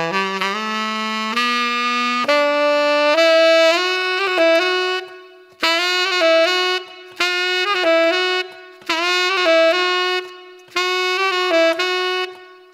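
A tenor saxophone plays a slow, ornamented phrase with rich harmonic tones, first in a long sustained line and then in four short separated phrases, clear and close, with no talking.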